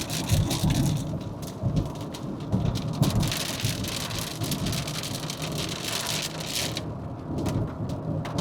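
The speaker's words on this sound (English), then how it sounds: "Rain is so soothing." Steady heavy rain pouring and pattering on surfaces outdoors, a dense continuous hiss with low rumbling like distant thunder underneath, loud and close throughout with no voices.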